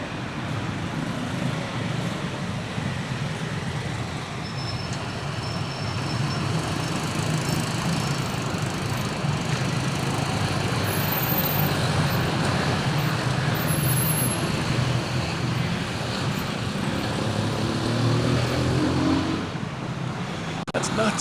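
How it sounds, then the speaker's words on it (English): Chaotic traffic at a busy street corner in Phnom Penh, Cambodia: a constant roar of car, bus and truck engines with passing vehicles and occasional horn-like tones, loud and unbroken throughout. "I'm going to show you guys this traffic corner and just show you how chaotic it is one more time."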